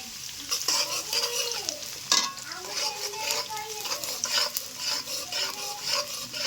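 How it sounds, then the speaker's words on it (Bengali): Chopped onions fry in white oil in a pan for chicken fried rice: a steady, close sizzle with constant spatula stirring and scraping, while a voice talks faintly in the background. "এবার দিয়ে দিলাম পেঁয়াজ কুচি"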